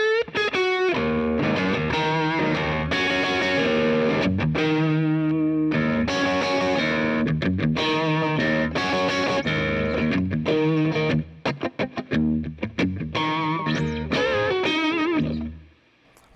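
Electric guitar played through a Boss DS-1 distortion pedal with the Tri Roxx Plus mod, set to a cleaner, cleaned-up tone for bluesy playing: loud, continuous chords and riffs with a little echo, fading out at the end.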